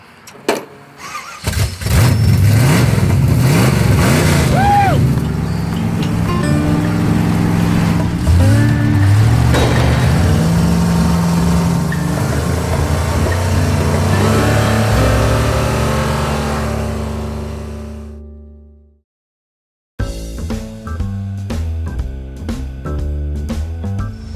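An old drag race car engine cranks and fires, then revs hard and loud for about fifteen seconds before cutting out; after a brief silence it restarts into a rough, lumpy idle.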